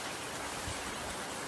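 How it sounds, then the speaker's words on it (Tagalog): Heavy rain pouring down in a steady, dense hiss that fills the whole clip, loud and unbroken with no voices. "Maingay lang ang video ko mga parikoy kasi malakas ang ulan"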